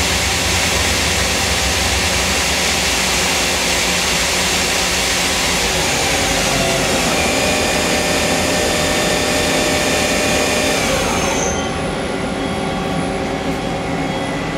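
A Hyundai HIT-15S CNC turning center's spindle spins at about 3,500 RPM, a loud steady high whine and whir that holds constant, then eases slightly near the end.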